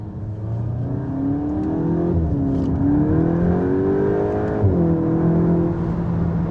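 A Volkswagen Golf GTI Clubsport MK8.5 engine revs in first gear, a loud close drone whose pitch rises and falls in smooth sweeps as the car accelerates.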